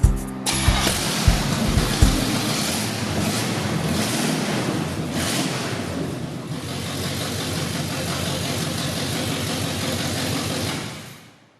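A 1976 GMC High Sierra half-ton long-bed pickup with open headers rumbles loudly after a few sharp opening pops, then holds a steady, rough, broadband roar mixed with heavy wind noise, close to the microphone, before cutting off abruptly.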